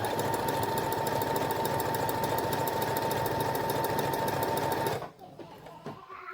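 A sewing machine runs steadily, stitching elastic onto fabric for a sweater romper with a fast, even mechanical clatter for about five seconds, then stops, leaving quieter handling sounds.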